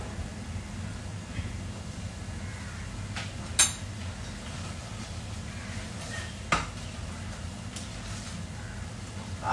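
Masala is stir-fried in a pan in a home kitchen. A steady low sizzle runs under occasional scraping stirs and two sharp clinks of a utensil against the pan, and there is no talk.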